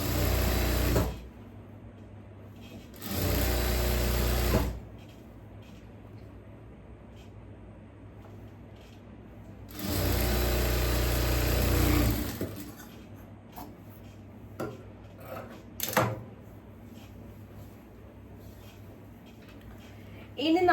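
An electric sewing machine stitches a churidhar neck piece in three loud, close bursts of rapid whirring, each lasting one to two seconds, with quiet handling sounds and someone talking in between.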